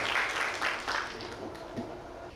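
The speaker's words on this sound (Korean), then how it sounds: "큰 박수 부탁드리겠습니다" Applause from an audience at a water-environment governance forum session, a broad, steady wash of clapping that swells in a few bursts and carries on for a couple of seconds.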